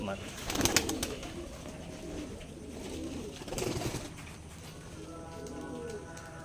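Pigeons kept in an abandoned space used as a loft coo softly and repeatedly nearby, low burbling calls rising and fading amid faint background rustle and a low-level murmur.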